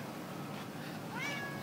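One short, soft cat meow rises and trails off near the end, nearby, with otherwise quiet background hiss.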